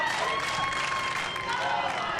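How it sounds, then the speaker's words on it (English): Friends and family cheer from the stands at a Little League baseball regional game in the Northwest, a dense, steady crowd roar mixed with clapping and shouts that holds loud and unbroken throughout. "Hear how loud friends and family that are in the stands cheering."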